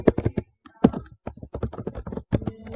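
Rapid keystrokes on a computer keyboard, close and clear, coming in irregular bursts of clicks with short pauses between them; no voices.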